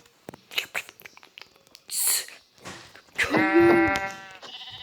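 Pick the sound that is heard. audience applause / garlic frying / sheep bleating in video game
sheep bleating in video game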